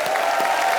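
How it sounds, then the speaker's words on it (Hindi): Brief burst of studio audience clapping on a comedy talk show, a dense wash of hands heard for under a second. "एक बार राजू भाई के लिए जोरदार तालियां।"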